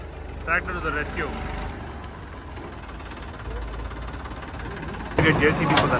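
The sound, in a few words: tractor engine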